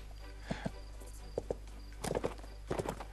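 Horse hooves from the Switch game Bibi & Tina clip-clop in uneven pairs and clusters, soft thudding steps on a hard surface over a steady low hum.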